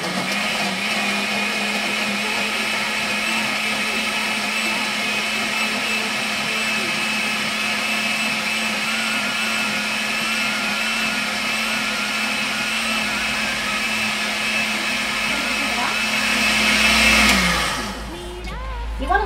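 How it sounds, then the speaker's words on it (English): A blender pulping paper and water whirs with a steady, loud motor drone, running continuously before winding down abruptly near the end. "We're going to pour some water in the blender."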